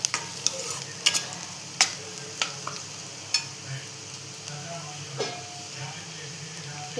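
Wild monsoon greens frying in a pan with asafoetida are stirred, sharp scraping clicks of the spoon knocking against the pan over a constant soft sizzle and hiss.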